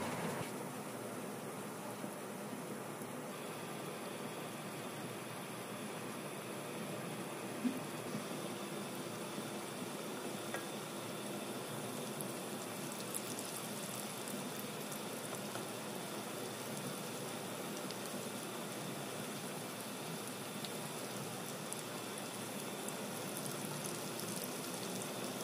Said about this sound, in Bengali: এবার আমরা অল্প আঁচে লাল লাল করে ভেজে নেব।